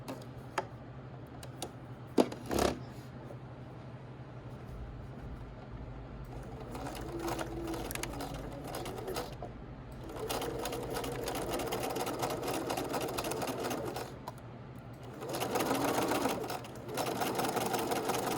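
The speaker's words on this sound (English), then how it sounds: "We're going to pivot up here, and then back stitch over here. We're sewing this at 5/8." A sewing machine stitches a 5/8-inch collar seam, running in several steady bursts with a pivot and a short back stitch, close and fairly loud with brief pauses between runs.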